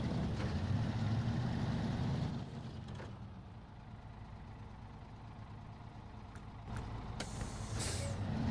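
Heavy trucks in the SnowRunner video game grinding through terrain, a loud continuous low engine drone with hissy air-brake-like bursts near the end, no voices.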